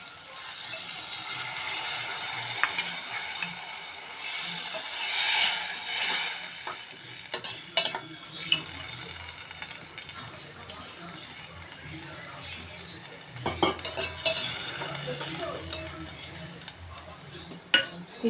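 Soaked tamarind juice is poured into a hot, sizzling pan while cooking ulavacharu (horse gram soup), then stirred; steady sizzling and frying with scraping stir strokes and a few sharp clinks of utensil against pan.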